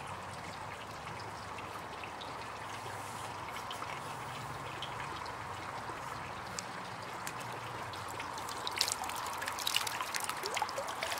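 Water trickling and dripping off a metal detecting pinpointer lifted out of water, a faint, continuous patter of small drips with a few louder splashes toward the end, heard alone without speech.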